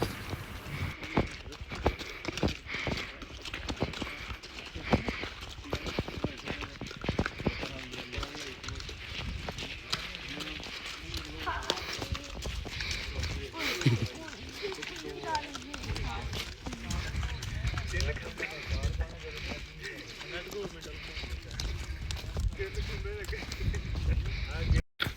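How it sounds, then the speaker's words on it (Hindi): Horse hooves clip-clop steadily through a hill-station ride near Abbottabad, close and continuous, with someone talking over the jolting steps and outdoor noise throughout. "हॉर्स राइडिंग के दौरान अभी थोड़े झटके मार रहा है"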